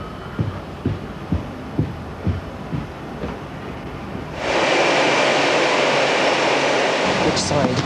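At an airport, an airplane engine roars up suddenly and holds at a loud, steady whine after a stretch of quieter activity, with people talking earlier.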